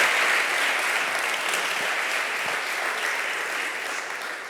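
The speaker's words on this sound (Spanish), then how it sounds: "vamos a darles un fuerte aplauso" Strong, sustained applause from a large audience at an entrepreneurship gala, a dense wash of clapping that holds steady throughout and eases slightly toward the end.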